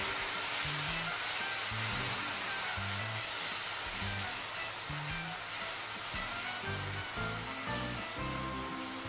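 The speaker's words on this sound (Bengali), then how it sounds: "একটু নাড়াচাড়া করে নেবো টমেটোটা।" Tomato frying in a pan for a tomato-date and dried fruit chutney, giving a steady broadband sizzle and hiss throughout, with low clunks from stirring scattered across it, no voices.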